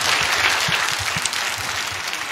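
Crowd applause at an outdoor Sunday worship rally in Gwanghwamun, Seoul: dense, steady clapping that fills the whole stretch, with dull low thumps scattered through it.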